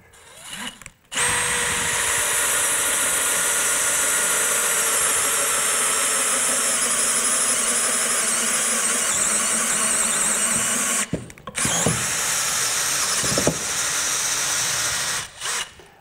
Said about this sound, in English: It takes a lot to hang on to that going through this treated lumber.